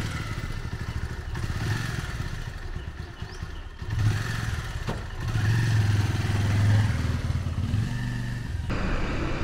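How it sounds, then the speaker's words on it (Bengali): Motorcycle ride recorded from inside the helmet, with a steady engine drone that swells as the bike accelerates, plus rushing wind and rattling clatter, all loud and close. "এইভাবেই আপনারা কিন্তু দেখতে পাবেন যখন আমি বাইক রাইড করব।"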